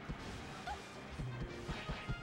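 Melee forward smash hits from a Peach vs Captain Falcon match in Super Smash Bros. Melee: quick percussive thwacks and crashes over busy game noise and crowd murmur, several sharp hits in close succession near the end.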